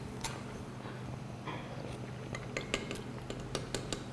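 Beetroot sambar being stirred in a pot, with a spoon clinking and scraping against the metal in soft, irregular taps over a low steady background hum.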